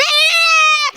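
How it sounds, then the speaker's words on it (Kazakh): A single loud, close goat bleat, a long wavering nasal cry that holds steady before cutting off abruptly. "Ешкілер сатылады екен."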